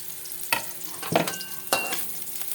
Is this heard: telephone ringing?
no